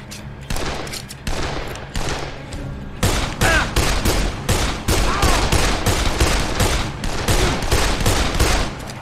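Gunfight in Dead Island: repeated loud gunshots crack out in irregular bursts and single shots, close and punchy, continuing throughout with brief gaps between volleys.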